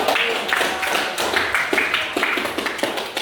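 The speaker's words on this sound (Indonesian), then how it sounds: "Berikan tepuk tangan" A classroom of students claps together, a cluster of sharp, close hand claps in an uneven rhythm, with some voices mixed in.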